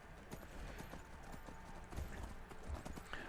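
Horse hooves clip-clop steadily in Skyrim as a mount picks its way over rocky ground, a continuous rhythmic clatter of loud, close steps.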